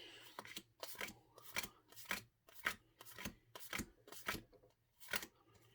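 Cards from the Similo Fables card game are dealt one by one onto a table, about a dozen crisp, evenly spaced flicks and slaps, quiet and close.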